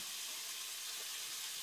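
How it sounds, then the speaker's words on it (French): Chicken and ingredients for Coca-Cola chicken gently sweating in a pan, giving a soft, steady, faint sizzling hiss with no voices. "on fait suer gentiment le tout"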